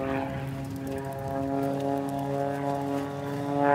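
An MXS aerobatic propeller airplane performs maneuvers at a US nationals aerobatic contest, its engine drone steady and moderately distant, rising slightly in loudness toward the end.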